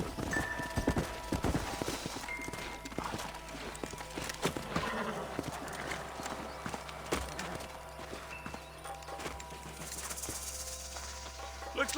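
Horses' hooves clip-clop steadily on a trail in the Red Dead Redemption video game, with occasional whinnies, all set under a continuous low background ambience.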